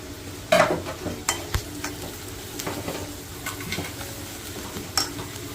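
Onions with a pinch of asafoetida and turmeric frying in a pan for a sandge vegetable dish, a soft steady sizzle broken by scraping stirs and a few spoon clinks against the metal, no talk.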